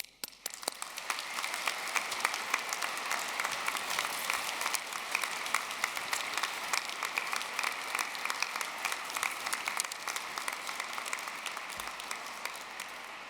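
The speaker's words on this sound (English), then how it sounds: "let's start this off as we mean to go on with a loud round of applause for our graduates" Graduates at a university graduation ceremony receive a steady round of applause from a large crowd, dense continuous clapping heard at a distance and sustained for the whole stretch.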